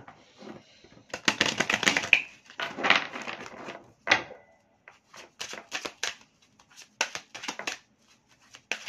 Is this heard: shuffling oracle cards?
yes